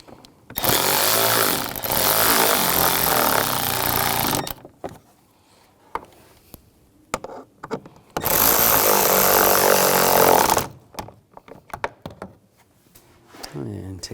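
A power tool whirs in two loud bursts of several seconds each, tightening bolts on a 2011-2018 Volkswagen Jetta while the radiator and condenser fan assembly is replaced, with quieter clicks and handling noises in between.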